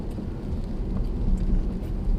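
Heavy rain falling around a 2015 Range Rover LWB, a steady dense hiss with a low rumbling undertone throughout the short stretch.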